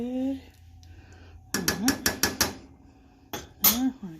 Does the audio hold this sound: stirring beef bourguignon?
yes